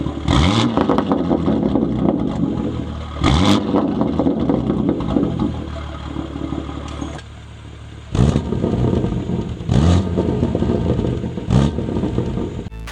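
A BMW G82 M4 with an aggressive exhaust revs repeatedly close by, each sharp rise roaring then settling into a rumbling idle, with several blips in a row.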